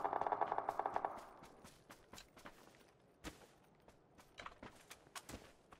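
Gunfire in the video game PUBG Battlegrounds: a quick close burst of automatic fire at the start, followed by faint scattered distant shots and soft footsteps, all fairly quiet.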